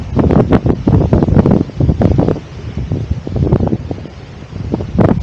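Strong wind gusts roar steadily and loudly across the microphone outdoors on a trip to Tuktoyaktuk, buffeting in continuous rushing waves with no talk.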